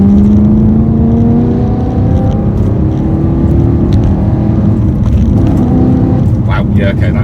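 A 2009 BMW E92 M3 in M mode accelerates hard, its engine note rising as it pulls through the gears, loud and continuous inside the car while people talk over it.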